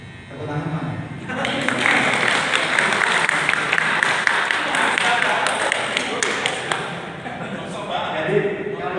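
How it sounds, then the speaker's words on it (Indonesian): A crowd claps steadily for several seconds, a dense patter of many hands that swells and then tapers, with voices mixed in. "Tepuk tangan mana?"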